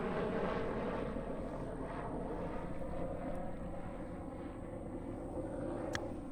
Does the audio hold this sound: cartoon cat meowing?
no